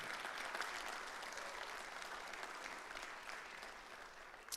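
An audience at a hockey team's awards banquet applauds continuously, a steady wash of many hands clapping at a moderate, even level throughout.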